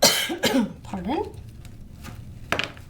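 Several sharp coughs and a throat-clearing burst out close and loud at the start, with a voice-like rising tone after them and one more short cough near the end, heard indoors.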